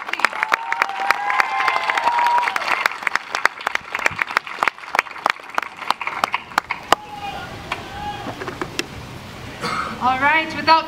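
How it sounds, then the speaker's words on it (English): An audience at a choral concert applauds in a burst of scattered claps that thins out halfway, leaving a few sporadic claps and some faint voices behind. "Big round of applause for all of our individual conductors"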